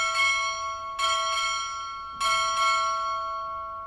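A ship's bell striking six bells at a naval training graduation, clear ringing strikes in paired double rhythm, each tone sustaining and decaying before the next pair, loud and close with no talk.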